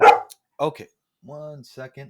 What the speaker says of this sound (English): Sorry about the barking. That's my dog,